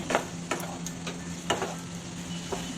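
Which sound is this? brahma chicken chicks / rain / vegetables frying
vegetables frying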